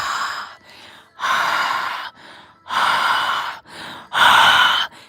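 Breath is blown hard into a microphone in four loud, close gusts, each lasting about half a second to a second, with softer inhales between them and no speech.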